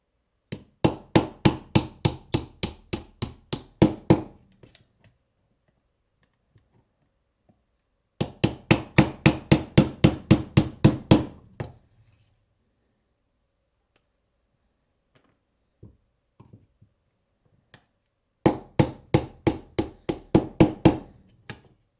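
A hammer strikes a punch to drive pins out of a Canik TP9SFX pistol, three quick runs of about a dozen sharp, evenly spaced metallic taps each, loud and close, with near-silent pauses between runs.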